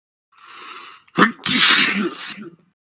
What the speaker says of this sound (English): I huffed, and I snuffed, and I sneezed a great sneeze